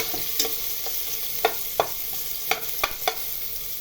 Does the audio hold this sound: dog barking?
no